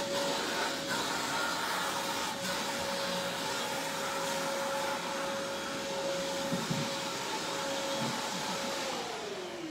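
Electric clippers shave a lion's fur during surgical prep before a spay, a steady close motorized buzz with a constant hum running unbroken throughout.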